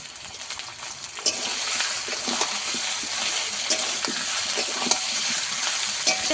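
Brinjal pieces fry in hot oil, making a loud, dense sizzle that swells after the first second and holds steady, with occasional sharp stirring clicks on top.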